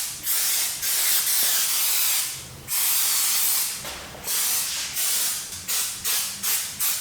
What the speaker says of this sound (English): This is some 3M general purpose. We need to spray this on